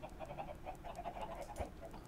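Chickens in the modded Minecraft pack All the Mods 4 cluck in short, soft repeated bursts over a steady low background hum, with no one talking.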